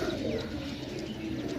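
Pigeons coo softly in a low, rolling murmur amid background chatter of other birds, steady throughout.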